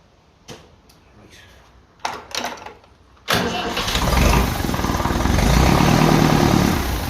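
A few clicks and cranking sputters, then a 1955 Ferguson 20 TEF diesel tractor engine catches and settles into a loud, steady chugging run.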